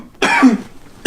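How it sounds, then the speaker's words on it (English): A podcast host coughs twice into a close microphone, a rough throaty burst followed by a shorter second cough, loud and alone. "this coughing's really annoying to anyone listening"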